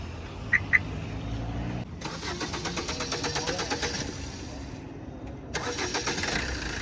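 A car engine turning over and catching after a collision that broke its headlight, cranking for a few seconds and settling into a steady mid-pitched idle, with a second start-up burst near the end and two sharp clicks early on.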